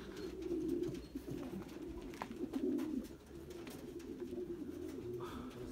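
Racing pigeons coo softly in low, rolling murmurs at the finish of a 143 km race, with a faint background hum and no talk.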